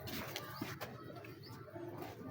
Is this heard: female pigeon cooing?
yes